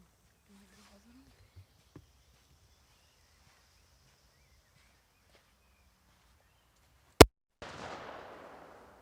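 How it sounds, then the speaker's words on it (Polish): A quiet stretch with faint sounds, then a single sharp, loud Dark Angel Triplex TXP230A firecracker bang, followed by a hissing, crackling fizz that fades away. "Czyli to jest petarda."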